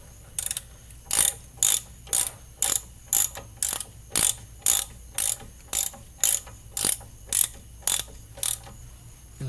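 A ratchet tightens a bolt on a vehicle brake, clicking in an even rhythm of about sixteen sharp, close, loud strokes with brief pauses between each.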